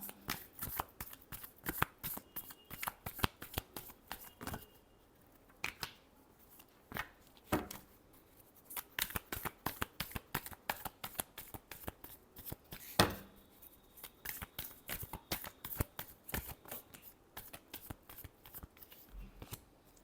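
Tarot cards shuffled by hand in a steady run of crisp riffling flicks and slaps for a sustained stretch, close and fairly quiet, with no talking.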